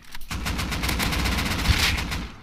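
Rapid automatic gunfire in the survival game Rust rattles on almost without pause, a loud, dense burst of shots filling the whole stretch.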